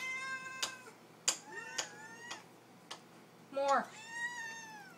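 A pet cat named Lily meows several times in short, rising cries, the last one longer and more drawn out, with someone talking softly between the calls.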